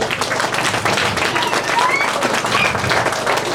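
A standing congregation at a Sunday church service applauds loudly in a dense, continuous burst of clapping, with voices mixed into the crowd noise.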